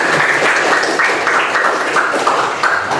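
Applause from a classroom of students, a steady spread of many hands clapping that stays fairly loud and even for the whole stretch, with no talking over it.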